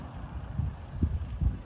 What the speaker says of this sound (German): es ist ein bisschen windig.